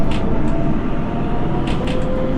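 An NYC subway R142A train departs in the OpenBVE train simulator game, giving a loud, steady rumbling hum with faint clicks and rattles throughout.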